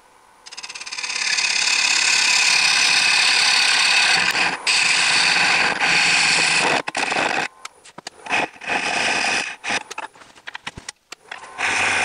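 A homemade hollowing tool cuts into wood spinning on a lathe at just over 1,000 RPM, a loud sustained hissing grind that later breaks into choppy bursts as the tool is withdrawn and reapplied, with no talking.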